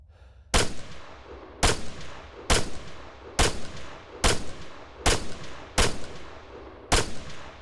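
Eight evenly spaced rifle shots crack out in ArmA 3, each a sharp loud report with a short decaying tail, fired at a steady pace of roughly one per second, with no talking.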